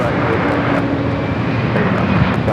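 Heavy Airbus A350 jet departing runway 24 right at Los Angeles International Airport, a steady, loud, broadband engine roar filling the whole clip without letup.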